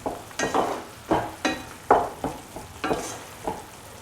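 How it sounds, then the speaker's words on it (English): A spoon stirs a mango and coconut milk curd stew in a pot, about eight scraping, sloshing strokes in an uneven rhythm, close and fairly loud with faint simmering between them and no voices. "Occasionally stir the mixture after opening the lid."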